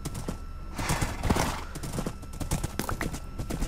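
Hooves clip-clop rapidly and a horse whinnies in Minecraft during a chaotic multiplayer UHC match, with busy overlapping game effects.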